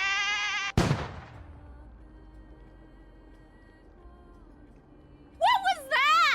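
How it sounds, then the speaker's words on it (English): A goat bleats twice in the game Honkai: Star Rail, sharp wavering cries near the end, loud and close, following a sudden crack and a quiet stretch of low ambience. "Was that a goat?"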